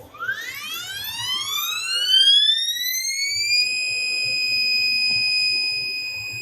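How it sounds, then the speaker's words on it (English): A stepper motor on a CNC machine whines, its tone rising steadily as it accelerates, then holding a steady high pitch with faint mechanical rattle underneath. "you can hear the difference in the tone of the motor. You can hear the acceleration change"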